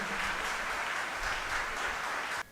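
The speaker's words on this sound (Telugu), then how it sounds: "తండ్రిని గట్టిగా చప్పట్లు కొట్టి తండ్రి గారిని ఆహ్వానిద్దాం." An audience at a church consecration ceremony in Hamsavaram, Visakhapatnam applauds in a dense, sustained burst of clapping that cuts off abruptly at the end.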